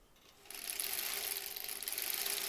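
A sewing machine runs a straight stitch through quilt blocks, starting after a brief pause and then holding a steady, fast mechanical whir with a rapid rattle. Nobody speaks.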